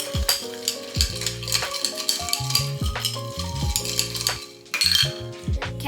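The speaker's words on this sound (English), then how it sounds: "All right, now we're gonna mix it." Spoon stirring strawberry lemonade in a cup, with continuous clinking and scraping against the sides in quick, uneven strokes, close and fairly loud, with no talk.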